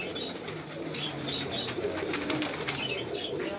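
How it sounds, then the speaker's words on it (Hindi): Amritsari pigeons coo in a loft, soft low repeated cooing running steadily through the whole stretch alongside faint chirps from other birds. "ये अंबरसरे कबूतर हैं जी इनके"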